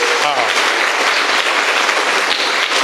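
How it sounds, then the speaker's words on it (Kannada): Sustained, dense applause from a school audience honouring teachers and headmasters, loud and even for the whole stretch, with a voice briefly audible near the start. "ಆ ಶಾಲೆಯ ಟೀಚರ್ಸ್ಗೆ, HMಸ್ಗೆ ನಾವೊಂದು ಜೋರು ಚಪ್ಪಾಳೆ ಕೊಡುವ ನೋಡಿ."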